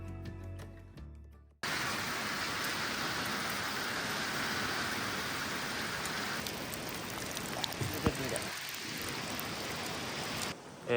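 Heavy rain pouring down around an old, abandoned Japanese country house, a dense constant hiss of downpour on surfaces, steady and loud after a brief quieter start, with a short dip near the end.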